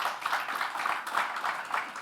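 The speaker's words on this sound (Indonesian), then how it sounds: "Yang setuju, tepuk tangan bagi Tuhan Yesus" A church congregation applauds during a Sunday worship service, a steady wash of many hands clapping at moderate distance, sustained evenly for the full stretch with no speech over it.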